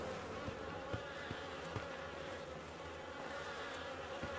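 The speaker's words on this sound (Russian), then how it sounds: "А чтобы пройти, ему надо этих мух отогнать." Flies buzzing in the video game The Fidelio Incident, a continuous droning swarm hum with faint ticking clicks, steady and fairly quiet, no talking.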